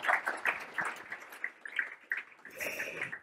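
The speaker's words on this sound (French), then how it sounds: "on peut les applaudir" Audience applause at a French drive-to-store marketing breakfast event, a steady patter of clapping from a moderate crowd that swells near the end, with no talk over it.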